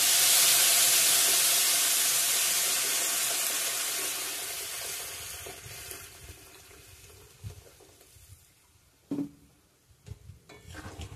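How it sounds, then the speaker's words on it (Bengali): Hot water poured into a pan of sizzling spiced potato curry, starting as a loud hiss and fading to quiet bubbling with a few clinks near the end. "গরম জল দিয়ে দিলাম"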